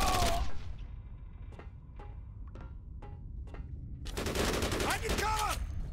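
Suppressing gunfire rattles in the video game Code of Honor 3: a burst of automatic fire, then a few sharp, separate shots, then a dense, sustained automatic barrage near the end.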